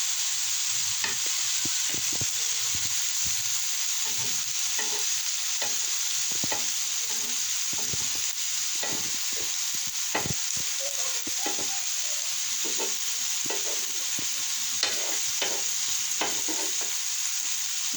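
Gola kababs fry in a pan with a constant, bright sizzle, while scattered soft taps and scrapes mark them being turned over. The sound is close and steady, with no voices.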